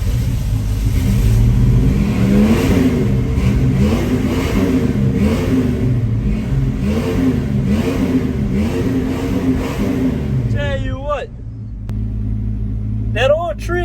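A Chrysler 318 V8 in a classic car revs loudly and continuously up close, its deep rumble rising and falling. At the end the engine drops to a lower idle and short chirping sounds cut in.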